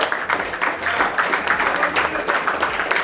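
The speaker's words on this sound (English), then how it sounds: "Special applause for" Moderate clapping from a crowd at a prison football finals event, uneven and pulsing in bursts, with voices mixed in underneath.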